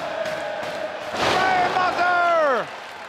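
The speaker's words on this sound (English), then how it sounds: "Listen to this crowd." A wrestling arena crowd roars and cheers during a Ring of Honor match, a loud rising swell with shouts and a falling whistle-like cry that drops away abruptly, while a commentator's voice is faintly present.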